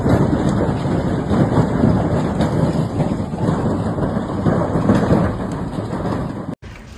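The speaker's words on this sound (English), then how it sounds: "the heavy hail hammered against rooftops, windshields, and anything else left exposed and unprotected" A heavy hailstorm with massive hailstones pounds rooftops and windshields, a dense, continuous roar of impacts at steady loudness for several seconds, cutting off briefly near the end.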